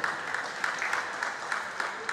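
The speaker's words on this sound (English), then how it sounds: "Once again, let's give Mr. Watoshi a round of applause." A room full of people at an annual general meeting panel session claps steadily, a sustained round of applause with individual claps standing out, moderately loud and close.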